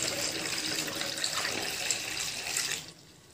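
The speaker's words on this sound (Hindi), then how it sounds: "मैं बॉटल में भर रहा हूँ धीरे धीरे" A homemade leaf-based insecticide liquid is poured slowly into a bottle, making a steady, close splashing stream that runs for nearly three seconds and then stops abruptly, with no talking.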